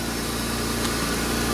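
A 2001 Pontiac Bonneville engine idles with a steady, even drone, close and fairly loud, with no voices.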